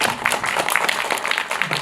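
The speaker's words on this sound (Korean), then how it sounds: "박수 쳐주세요" A crowd at a guest-visit screening of the film Dustman, with the director and actors present, applauds. The clapping is dense and continuous, fairly loud and close, with scattered sharper claps and almost no talk over it.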